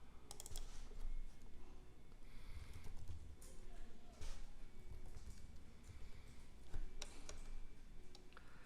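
Keys clatter on a computer keyboard as card details are entered into business software, steady close tapping with occasional louder clicks and faint background noise.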